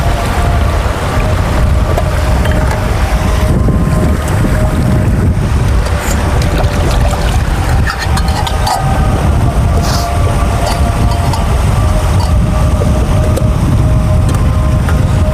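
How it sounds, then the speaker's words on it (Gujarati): Steady, loud outdoor water rush from a river runs without pause, broadband and dense, with some wind buffeting on the microphone. "નદીમાં પાણી આવતું હતું ને એનો અવાજ જ આવતો હતો"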